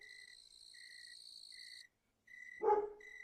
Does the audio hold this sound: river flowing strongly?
no